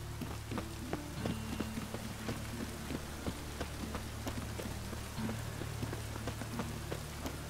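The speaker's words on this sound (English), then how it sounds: "Rain again." Steady rain pattering on surfaces in a Witcher 3 video game scene, a continuous dense hiss of drops with faint low background tones and occasional light taps throughout.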